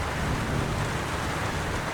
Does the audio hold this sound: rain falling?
yes